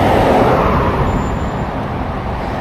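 Busy road traffic heard from a bicycle on a ride between Burnaby and Vancouver, with a car rumbling past close by in a loud, steady roar amid surrounding vehicles. No one speaks.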